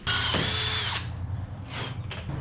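A power drill bores holes in the body of a 1977 Datsun 620 pickup truck during body work, with a loud, steady high-pitched whine for about a second, then two shorter bursts as the bit bites again.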